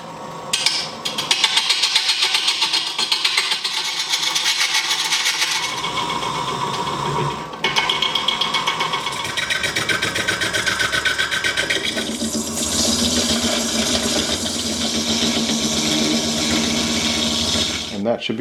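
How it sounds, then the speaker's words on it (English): A wood lathe spinning a bowl blank while a gouge cuts, producing a loud whirring hum with rapid scraping and chatter, briefly pausing and then restarting partway through. "let's get this thing mounted on the lathe."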